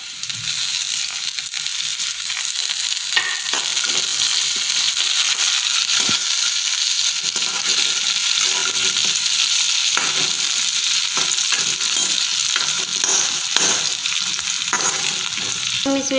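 Onions and chillies fry steadily in a pan while being stirred, a continuous loud sizzle with scraping and crackling stir strokes throughout, close up and without voices.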